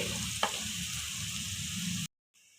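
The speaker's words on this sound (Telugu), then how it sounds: "అల్లం వెల్లుల్లి పేస్ట్ పచ్చివాసన పోయేంత వరకు వేపుకోవాలి." Ginger garlic paste frying in a pan for aloo biryani, a steady close sizzle with one quick scrape of a spoon, then cutting out abruptly into brief silence.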